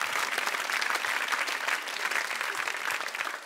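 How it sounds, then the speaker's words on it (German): A comedy club crowd bursts into dense, sustained applause, a continuous wash of many hands clapping at an even level throughout, loud and close with no speech over it. "Dafür gibt's Applaus"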